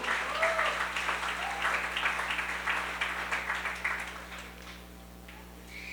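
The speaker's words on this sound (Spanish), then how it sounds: "Si puedes darle un fuerte aplauso al Rey" Members of a church congregation applaud during a sermon, a moderate, steady patter of many hands that fades out toward the end, heard over a low electrical hum.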